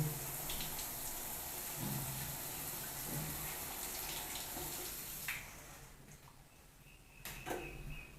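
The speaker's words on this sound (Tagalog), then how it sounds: "Rain shower." Steady rushing spray of water falling continuously from a newly installed Pozzi rain shower head, with a brief clatter near the end.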